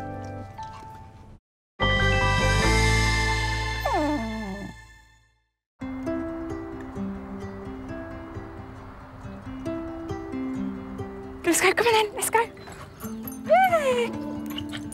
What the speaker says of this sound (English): She is very vocal in her kennel and she does pant and pace around